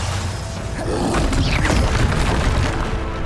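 A Bombarda spell explosion in the video game Hogwarts Legacy, a deep booming blast with rumbling and swirling magical whooshes, loud and continuous over a dense game soundscape.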